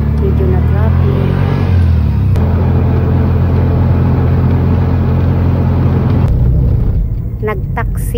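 A taxi drives through afternoon city traffic, its engine and road noise a loud continuous rumble throughout, with a sharper knock partway and the sound thinning near the end.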